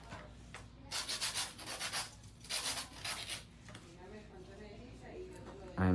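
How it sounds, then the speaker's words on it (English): Hand filing an acrylic nail with a 100 grit file, a series of rapid raspy scraping strokes in short bursts, close to the microphone over a quiet background hum. "So we're gonna go to hand filing."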